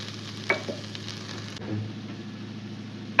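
Onions sizzle softly in a pan as turmeric and salt go in, with a steady low fry, a few stirring scrapes and brief clinks over about three seconds.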